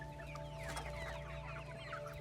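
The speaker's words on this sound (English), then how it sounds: "After that, I go to check in on the chickens." Backyard chickens cluck softly in a coop, several birds clucking over a steady low hum of background noise, moderately close and fairly faint.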